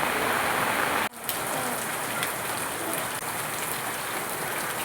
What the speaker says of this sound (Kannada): ಇನ್ನೂ ಕಂಟಿನ್ಯೂ ಮಳೆ ಬೀಳಾಕತ್ತದ ನೋಡ್ರಿ